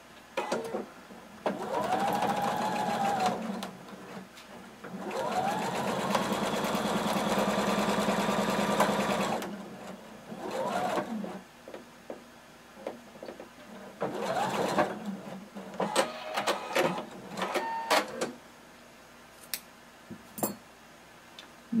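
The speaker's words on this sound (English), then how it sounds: "We're going to start at the bottom of one end and we're going to sew all the way around through the neck and down the other side." A sewing machine stitching a fringe kimono seam with bias binding, running in long whirring bursts of rapid ticking stitches separated by short pauses and a few clicks.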